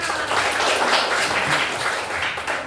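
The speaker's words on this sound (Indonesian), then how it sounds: "Oke, tepuk tangan." Children in a classroom clap together on cue, a thick continuous patter of many small hands that holds at an even level before tapering slightly at the end.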